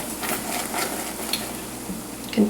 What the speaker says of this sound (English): so just keep on stirring and cooking